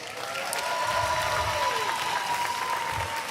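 A graduation audience applauds steadily in a large hall, a dense, continuous wash of clapping that holds at full strength throughout with no talk.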